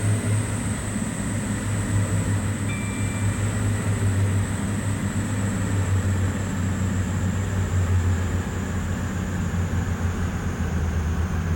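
A diesel train in the Train Simulator 2019 game powers down after running at 125 miles an hour, giving a steady, loud engine rumble with a low drone and a faint high whine throughout.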